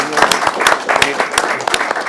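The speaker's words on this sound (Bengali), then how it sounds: "একদম জোরে একটা হাততালি দিয়ে সবার জন্য" An audience of Bangladeshi community members meeting in Italy breaks into brief, loud applause, dense clapping mixed with a voice speaking over it.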